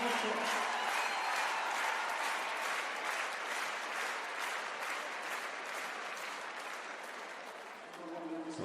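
A crowd at an indoor show jumping World Cup qualifier applauds in a long, dense, steady wave of clapping that slowly fades, with a commentator's voice faint beneath.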